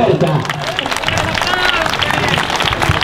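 A live comedy crowd claps and cheers as a comedian takes the stage, a loud burst of mixed clapping and crowd noise with voices mixed in throughout.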